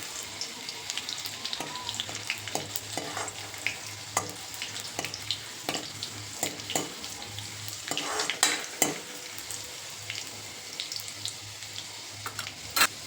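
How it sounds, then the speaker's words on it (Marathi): Garlic frying in hot oil for a dhaba-style lasuni methi dish, a steady close sizzle broken by scraping stirs and sharp spatula clicks against the pan. "हा लसूण आपल्याला ह्या तेलामध्ये टाकून घ्यायचा आहे। हा लसूण थोडासा लालसर होईपर्यंत आपण परतून घेऊ आता।"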